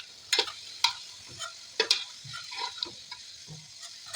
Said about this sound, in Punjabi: ਪਹਿਲਾਂ 15 20 ਮਿੰਟ ਤੱਕ ਇਸ ਤਰੀਕੇ ਨਾਲ ਹੀ ਉਬਾਲਾਂਗੇ ਹਲਾਉਂਦੇ ਰਹਾਂਗੇ